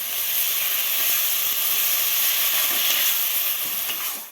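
Ground tomato paste hits hot frying spices in a pan for a chicken kofta curry, giving a loud, continuous hissing sizzle that fills the whole stretch and stays steady before cutting off abruptly, with no voices.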